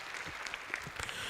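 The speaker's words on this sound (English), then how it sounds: "a round of applause to him" An audience gives a round of applause at a youth interaction event, soft scattered clapping with a few sharper individual claps, fairly distant and quiet throughout.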